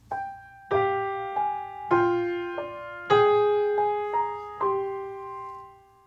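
A fugue subject on piano sounds together with its own slowed augmentation in a lower voice, producing overlapping two-voice notes with crisp attacks and sustained ringing, played alone with no talking.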